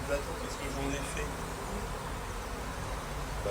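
Honey bees buzz steadily around an open hive while a new board is being fitted, a dense, continuous drone close to the microphone with low rumbling beneath.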